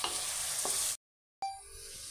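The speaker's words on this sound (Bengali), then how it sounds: "এগুলো ভাজতে 5 থেকে 7 মিনিট লাগবে।" Chopped capsicum frying in a pan for a chilli chicken dinner, a steady close sizzle that cuts out to silence for a moment and then resumes more faintly with a stir.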